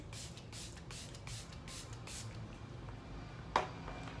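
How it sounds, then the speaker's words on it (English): Several quick hissing bursts of makeup setting spray onto a face in a steady rhythm, close and soft, followed by a brief small click. "and just spray that on my face"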